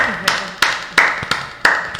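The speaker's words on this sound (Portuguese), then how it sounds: "Palmas para ela." A few sharp hand claps at a steady, slow pace, close and loud, like a small scattered round of applause.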